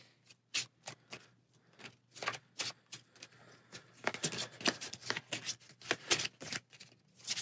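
Sleeved playing cards for a Space Marine Adventures: Labyrinth of the Necrons tabletop game being riffled and shuffled by hand, close up: a run of crisp, irregular flicks and rustles that grows denser and busier toward the end.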